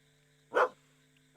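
A single short, soft dog bark from the farming adventure game Potion Permit sounds over a quiet sustained musical hum.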